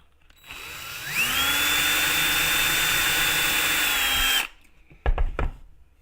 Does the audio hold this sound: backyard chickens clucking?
no